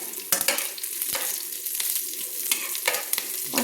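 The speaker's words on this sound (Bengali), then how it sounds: "5-6টা কাঁচা লঙ্কা চিড়ে আমি দিয়ে দিয়েছি।" Slit green chillies fry with fennel seeds in hot oil on a low flame while making chicken do pyaza, giving a steady, close sizzle with brief stirring clatters and no talk.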